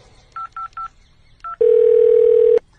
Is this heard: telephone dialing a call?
yes